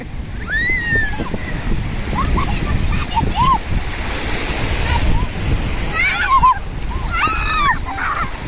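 Steady roar of sea surf washing ashore at Alibag beach fills the background, with a voice calling out and talking over it in bursts.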